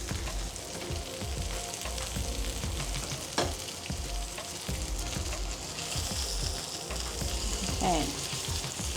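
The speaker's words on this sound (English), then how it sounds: "We wanna get a sizzle" Steady sizzling and crackling of lamb chops frying in a hot pan, close and continuous, with occasional clinks of utensils.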